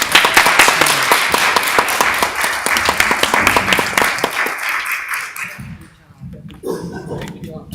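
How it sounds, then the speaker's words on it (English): A theatre audience at a playwrights festival claps loudly and steadily for several seconds, then the applause thins out and fades, leaving a quiet room with faint movement. "Let's give her another round of applause, please."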